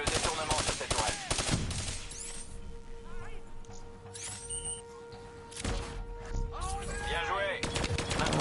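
Rapid bursts of automatic turret gunfire in the Call of Duty: Black Ops solo campaign, loud and close, mixed with crashes, electronic tones and a voice speaking over the fight.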